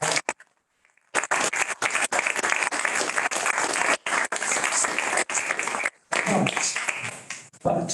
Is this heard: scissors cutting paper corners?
no